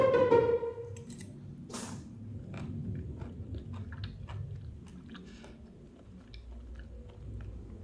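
Someone chews a lawn-picked shaggy ink cap mushroom fried in plenty of butter, close to the mouth, with a bite at the start and then soft, wet squishing and small clicking chews continuing quietly.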